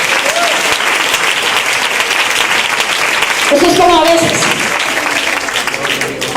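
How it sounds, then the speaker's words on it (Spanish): Loud, sustained applause from a church congregation fills the space, with a voice speaking over it partway through. "si ese aplauso es para Dios, lo mejor"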